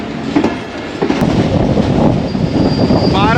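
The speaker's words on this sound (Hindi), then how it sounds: "ओकाड़ा स्टेशन से थ्रू पास करने लगे हैं बेहतरीन रफ्तार में" Pak Business Express passenger train running at speed through Okara station, a loud continuous roar of wheels and rushing air with rattling, heard close from on board.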